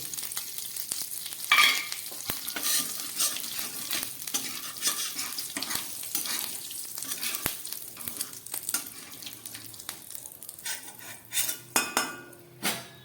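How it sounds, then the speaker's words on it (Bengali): Pointed gourd (potol) pieces frying in oil in a pan, a steady sizzle with stirring and clinks of a utensil against the pan, brief louder scrapes near the end, no talking. "এবার এই তেলের মধ্যে আমি পটলগুলোকে ভেজে নিচ্ছি।"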